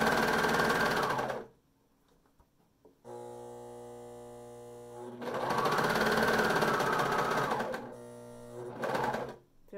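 A serger sewing machine stitches a skirt in two loud whirring runs, with a quieter humming pause between them and a short final burst.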